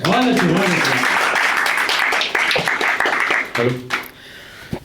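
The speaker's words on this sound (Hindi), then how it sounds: "तो एक बार अपने लिए तालियां बजा दीजिए।" A crowd at a Hindi poetry recital breaks into dense, steady applause that swells, then thins and fades. Voices speak at the start and again near the end.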